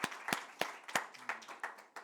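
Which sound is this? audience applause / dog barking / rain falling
audience applause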